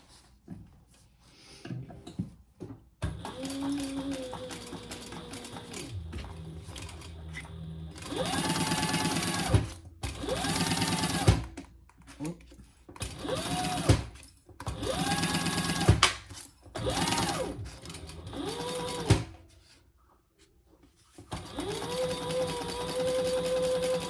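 A sewing machine stitching the lining seam of a crossbody bag runs in several loud bursts of rapid mechanical whirring, with pauses and handling noises between the runs.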